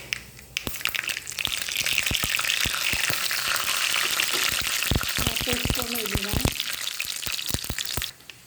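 Mustard seeds fry in hot coconut oil with a continuous sizzle and sharp, irregular pops and crackles spread across several seconds, and a brief voice is heard toward the end before the sound cuts off abruptly.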